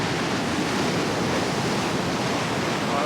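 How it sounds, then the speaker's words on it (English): Waves break and crash continuously on the Northumberland coast, a loud, steady roar of surf close by with no voices. "I'm just watching the waves because they're crashing in a minute."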